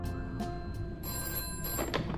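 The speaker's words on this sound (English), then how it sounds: "So once we enter the night section, we get this phone call." In a FNAF fan video game, a telephone rings in repeated short electronic trills, several bursts over a constant low hum, with no voices.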